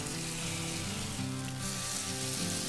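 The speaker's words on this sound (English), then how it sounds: "We're going to fry them off now." Courgette and feta fritters fry in a pan, giving a steady, dense sizzle that stays loud and even throughout, with no voices.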